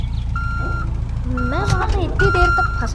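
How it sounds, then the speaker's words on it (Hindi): A vehicle in a video game gives off electronic reversing beeps, a few evenly spaced high tones that sound over engine rumble while someone talks. "मैं अपनी गाड़ी रिवर्स ले रहा हूँ, वो अपनी गाड़ी रिवर्स ले रहा है।"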